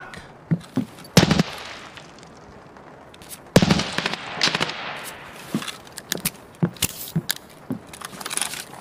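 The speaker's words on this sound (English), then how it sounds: "he was taking shots at the building" Bursts of gunfire ring out in an Escape from Tarkov raid, with sharp loud reports near the start and around the middle followed by scattered crackling shots of varying strength, no voices.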